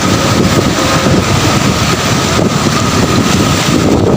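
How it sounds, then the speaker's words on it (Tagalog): Strong monsoon wind buffets the microphone beside a high pier, with big sea waves surging below in a steady, loud, dense roar that holds throughout. "malaki talaga na mga alon yan"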